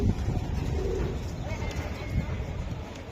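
Long-distance racing pigeons coo softly amid steady loft background noise, with low murmured calls repeating under faint human voices.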